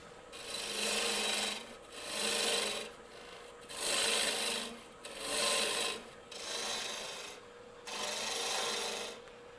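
A gouge hollows the inside of a spalted maple natural-edge hollow form spinning on a wood lathe, giving a rasping, scraping cut in about six rhythmic passes, each swelling and fading, close and fairly steady.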